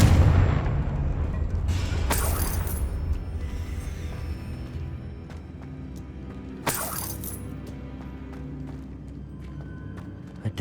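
A Confringo fire spell blasting in the wizarding game Hogwarts Legacy: a deep, loud booming burst opens, fading into a rumbling tail, with sharp crashing cracks about two and seven seconds later.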